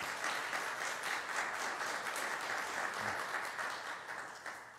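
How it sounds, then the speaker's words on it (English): A church congregation applauds a new graduate, a dense, steady wash of many hands clapping close by that holds evenly and eases slightly at the end. "So let's applaud him and say congratulations."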